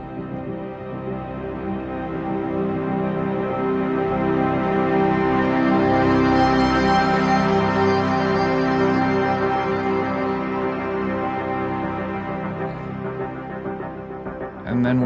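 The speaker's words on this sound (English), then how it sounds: "what you hear there is an alt version of the Glass is Greener preset" A sampled instrument plays the alt Glass is Greener preset from the Intimate Textures library, a sustained, swelling tonal pad with rich harmonics that rises and fades over about fifteen seconds, alone with no talk.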